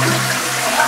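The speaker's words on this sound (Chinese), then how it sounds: "我就再冲一下这个马桶" A toilet flushes in a bathroom with mosaic tile walls, a short, loud burst of rushing water filling the whole moment.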